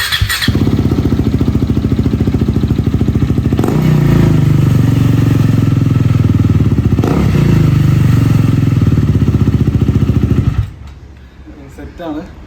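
A KTM Duke motorcycle on its stock exhaust runs close and loud, idling with a steady thrum and blipping the throttle in two swelling revs before the engine cuts off, leaving a quiet tail.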